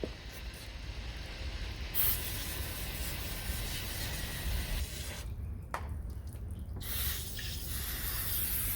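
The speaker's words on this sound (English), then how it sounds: "now it's time to spray our foam on" Steady hissing spray of foam coil cleaner on a vehicle's bug-covered coils, continuous and close, with brief pauses and changes in pressure throughout.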